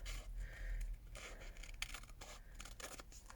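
Scissors trim paper for a junk journal, making soft, close snipping and rustling strokes across a few quiet seconds.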